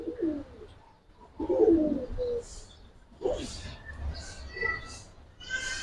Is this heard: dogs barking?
no